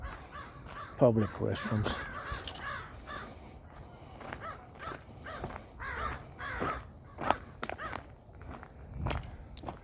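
Crows caw repeatedly at mid-distance along an open-space riverside trail in Albuquerque, mixed with crunching footsteps and a person speaking briefly nearby.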